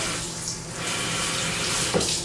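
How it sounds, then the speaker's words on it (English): Kitchen sink faucet running water for dish washing, a loud steady hissing splash that continues throughout, close by and alone with no voices. "I also do not let the water continuously run while I wash my dishes"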